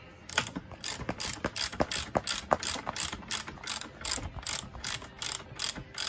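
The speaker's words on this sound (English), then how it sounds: "get your ratchet on" A ratchet tightening bolts on a VW T5 Transporter van seat bracket, a fast series of crisp clicking pawl ratchets in quick repeated strokes, close and loud with no talking.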